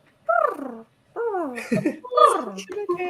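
A voice imitates a butterfly creature's purr in a game, making several rolling, rumbling vocal sweeps separated by short pauses, close and clear.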